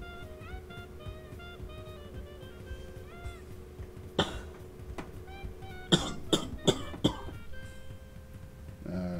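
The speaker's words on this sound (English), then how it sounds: "Sorry about that cough." A person coughs several times in a quick cluster, close and fairly loud, over a quiet background of soft steady tones.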